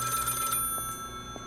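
A telephone rings in a horror video game about washing dishes, with a trilling electronic bell burst that fades out, over a steady hum of game ambience and a couple of soft knocks.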